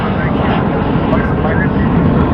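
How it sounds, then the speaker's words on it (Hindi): Indian Air Force fighter jets fly overhead in formation, producing a loud, continuous roar that stays steady and dense throughout the short stretch. "इस वक्त आप देख सकते हैं किस तरह से जो कोई लड़ाकू विमान है वो उड़ान भरते हुए नजर आ रहे हैं।"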